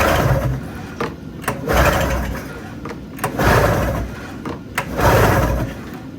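Rebuilt 1997 Arctic Cat 440 snowmobile engine cranking on fuel, a rough, surging mechanical churn that swells and fades in repeated pulls without catching, close by, with faint talk in the background.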